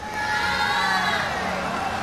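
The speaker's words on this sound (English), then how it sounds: "Listen to the crowd, they are absolutely behind him" Crowd noise swells steadily at a University Games men's vault final, a dense roar of cheering from a large arena audience, loud and continuous without pause.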